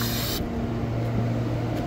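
Expanding foam hisses steadily from a spray can inside a walk-in freezer, close and continuous, with a faint low hum running beneath it.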